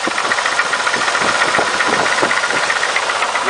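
A K30 truck engine runs at idle, close and loud, with a rough, steady knocking rumble and vibration and no talk over it.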